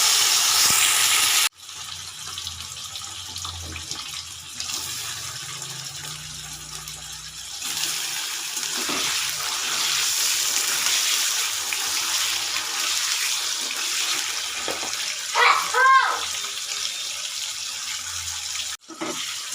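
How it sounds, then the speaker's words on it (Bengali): Paneer fries in hot oil in a wok, giving a continuous broadband sizzle that holds steady for most of the stretch and swells slightly in places. No one talks. "কড়ায় তেল দিয়ে দিয়েছি, তেলটা গরম হয়ে গেছে। আমি প্রথমে পনিরগুলো একটু ভেজে নেব।"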